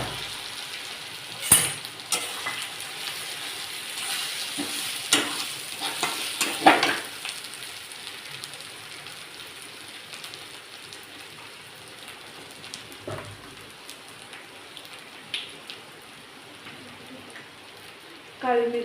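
Masala spices sizzle in a hot pan with tomato and curry leaves for spicy misal, a steady crackling fry broken by occasional scraping stirs and clinks, close and moderately loud throughout.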